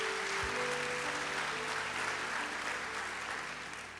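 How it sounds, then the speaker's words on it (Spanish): A church congregation applauds during a service, with a steady, full wash of clapping that fills the room and fades slightly at the close, while a low held tone hums underneath. "¿Qué les parece si le damos otro aplauso al Señor en esta hora?"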